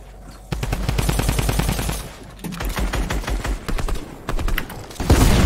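Rapid automatic gunfire from a Fortnite match, loud bursts of repeated shots running back to back with brief pauses between volleys, close and dominant throughout.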